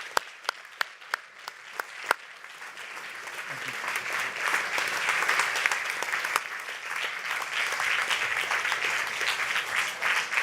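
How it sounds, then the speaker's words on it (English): Conference audience at the Zabbix Summit claps in sustained applause, opening with a few sharp isolated claps that quickly swell into a dense, steady ovation filling the hall. "please give a round of applause to my colleagues, to Zabbix team"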